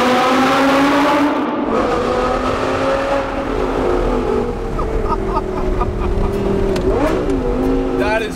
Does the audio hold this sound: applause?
no